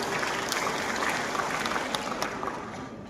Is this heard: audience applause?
yes